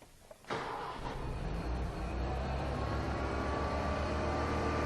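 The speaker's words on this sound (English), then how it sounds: "when I start the engine" After a short quiet moment, a Ford Mustang engine cranks and catches, settling into a steady, rising idle rumble.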